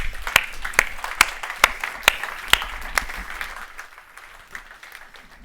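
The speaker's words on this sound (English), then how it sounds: "So give them a round of applause." A small audience claps briefly for a panel on digital transformation at a conference, with about eight sharp, spaced claps that fade out after roughly three seconds, leaving quiet room noise.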